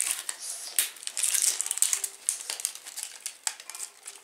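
Close, crisp crinkling and crackling of a Pikmi Pops lollipop's paper wrapper being handled, with irregular sharp bursts over about four seconds and no talking.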